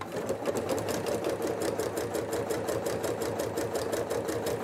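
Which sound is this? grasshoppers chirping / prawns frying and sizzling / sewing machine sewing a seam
sewing machine sewing a seam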